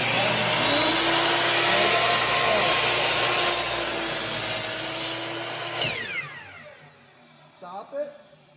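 A power saw, likely a table saw, rips about an eighth of an inch off a wood board for a cribbage board, with the blade whining loudly for several seconds before spinning down and stopping, followed by a few small knocks.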